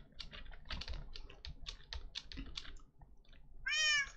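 Giant cats in a modded video game let out a loud, wavering meow near the end, after a steady run of rapid keyboard typing clicks that fills most of the moment.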